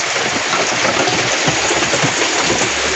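Heavy rain pours down steadily in a dense, loud, continuous hiss with no break, a downpour in Kerala during widespread severe rain.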